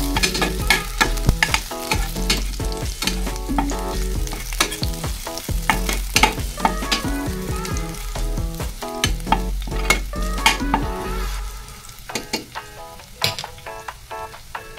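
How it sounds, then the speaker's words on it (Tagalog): Garlic fries in hot oil in a pan, giving a continuous loud crackling sizzle with frequent scraping stirs and clatters of the utensil against the pan. "Hulog na natin ang ating bawang. At Hintayin natin mag-brown guys ang ating bawang para mabango."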